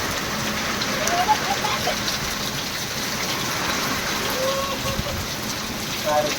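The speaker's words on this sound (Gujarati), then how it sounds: "વરસાદ ચાલુ થઈ ગયો છે" Heavy unseasonal rain pours down steadily in a dense, even hiss of drops striking the ground and surfaces, loud and close, with no speech.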